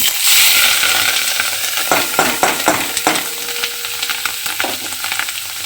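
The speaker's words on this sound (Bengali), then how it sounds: "ডিমটা দিয়ে এবারে খুব ভালোভাবে ডিমটা ভেজে নিতে হবে একটু লাল করে।" Fish roe frying in hot oil with turmeric, a loud bright sizzle that settles down, with a few sharp stirring scrapes of the spatula in the pan, close and with no one talking.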